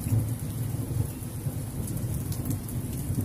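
Steady rain patters down while low thunder rumbles continuously underneath, close and full.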